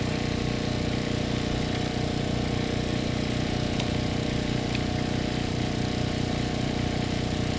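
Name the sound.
Cobra Crusher running, grinding Ohio rock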